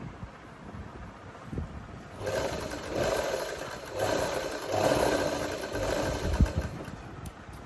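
Sewing machine stitching a tailored garment's side fitting, a steady whirring motor in several short bursts of running, close and moderately loud over light background noise.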